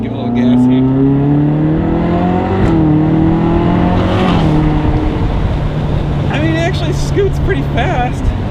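A Ferrari California's engine hums steadily and then climbs in pitch as it accelerates, heard from inside the car, with someone talking over it.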